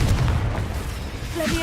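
A Confringo fire spell explodes in Hogwarts Legacy, a short deep boom with a rumbling burst, close and loud, lasting under two seconds.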